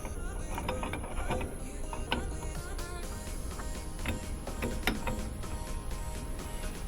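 Washing machine transmission gears being turned by hand during an overhaul, giving a steady run of ratcheting clicks and clacks, close and fairly loud, with no one speaking.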